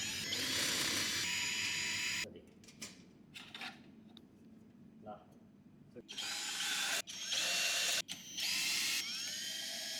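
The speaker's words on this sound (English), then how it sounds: "Remove the panel screws." A power drill whirs loudly in short bursts while backing out screws from a refrigerator panel, with quieter clicks and handling noises between runs.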